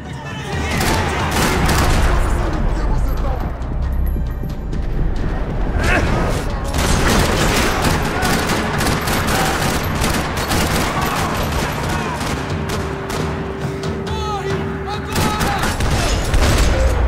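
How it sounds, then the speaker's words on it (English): Heavy gunfire echoes through a parking lot in the video game Max Payne 3, with rattling bursts, sharp shots and deeper booms running continuously, and voices mixed in. "Another parking lot rattling with gunfire."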